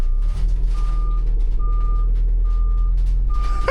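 A Ford Transit van backing up with its reversing alarm sounding five evenly spaced beeps over a loud low engine rumble, close by, with no talking.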